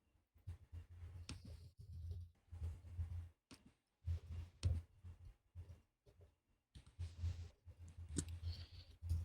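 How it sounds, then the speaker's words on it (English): Angry typing on a keyboard comes as quiet, rapid bursts of clicking keys, broken by short pauses. "angry typing"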